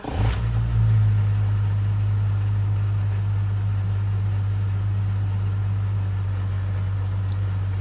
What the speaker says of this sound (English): Does have a little bit of an exhaust rattle and a leak down under here somewhere.